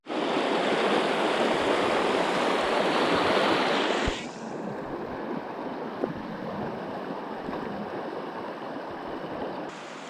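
Slate Run, a mountain trout stream in Lycoming County, Pennsylvania, rushes steadily and close by, a loud broadband wash that drops to a softer, even flow about four seconds in and carries on with no voices.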